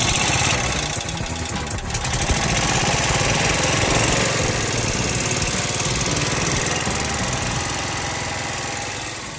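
Club Car DS gas golf cart engine running after a fuel pump fix, a steady close, loud mechanical drone with a slight swell near the start and no talk.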